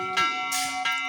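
A metal village meeting bell in a Sierra Leone community is struck close by, ringing out in a few quick clangs with long, bright overtones that hang and overlap.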